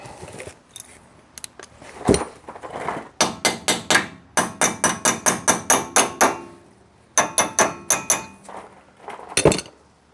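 Sharp metallic hammer blows on Corvette brake and hub parts ring out in quick, regular runs, pausing briefly between sets, close and loud against a quiet workshop background.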